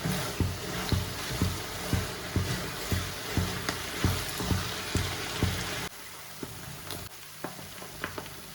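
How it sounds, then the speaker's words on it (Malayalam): Soft sizzling of paneer roasting in ghee in a pan, with regular stirring scrapes and taps repeating about twice a second, quieter toward the end. "നമ്മൾ 2 സ്പൂൺ നെയ്യായിട്ട് ഇങ്ങനെ ഒഴിച്ച് അതിന് റോസ്റ്റ് ചെയ്തെടുക്കണം"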